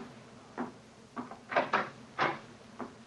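Front door being opened in a radio drama, heard as a series of wooden clunks and knocks from a latch and door, with five or six distinct bumps spread over a few seconds.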